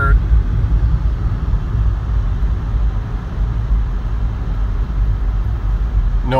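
A Toyota Prius climbing a small hill through about nine inches of snow after a running start, its steady low road rumble and tire noise continuous and close throughout.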